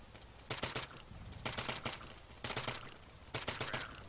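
An attack helicopter in a video game fires at the players in four evenly spaced rattling bursts of gunfire, moderately distant and fairly faint over a low background rumble.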